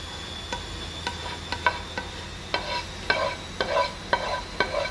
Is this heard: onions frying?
yes